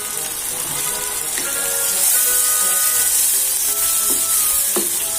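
Spices for a pickle-style potato curry, with green chili paste and dry chili powder, sizzle loudly and steadily in a pan, with a few scraping stir sounds over the frying.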